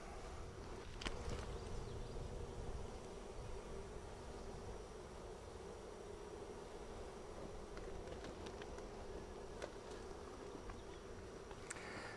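A massive honeybee swarm hums around a hive box fitted with bare foundation, a steady, faint, even drone with no one speaking.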